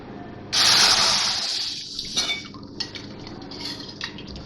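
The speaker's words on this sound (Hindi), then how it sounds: "ये कढ़ाई में अब ये मैं पहले गोश्त डालूंगी इसमें, मटन।" Raw mutton dropped into a hot karahi pan, a sudden loud sizzling hiss that bursts in and gradually fades, with small clinks of meat and utensils against the pan afterward.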